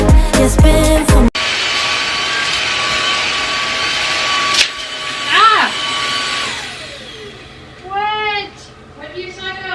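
A new household vacuum cleaner runs with a steady loud whine, then its motor winds down and stops. Voices speak over the end.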